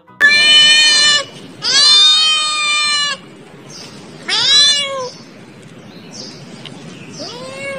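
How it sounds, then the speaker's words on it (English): A cat meows several times in close, clear calls, four or five drawn-out cries with short gaps between them, loud at first and then tapering off. "C for cat."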